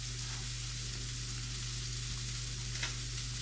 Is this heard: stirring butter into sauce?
yes